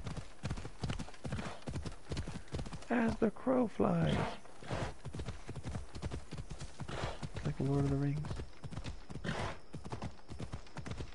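Rhythmic clip-clop of a video game horse's hooves runs steadily throughout, with a brief whinny, while a person talks over it.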